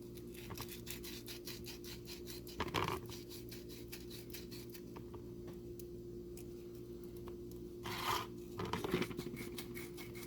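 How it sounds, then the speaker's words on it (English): Sandpaper rubbing the inside edge of a metal coin ring by hand, a faint, quiet rasping in a steady rhythm of short strokes, with a couple of louder scraping bursts. "take your sandpaper and then file or sandpaper the edge on the inside here"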